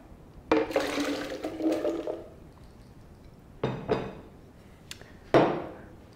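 Soaked raw cashews and their soaking water poured into a blender: a gushing splash of about a second and a half, then two shorter sloshes and knocks, close and moderately loud.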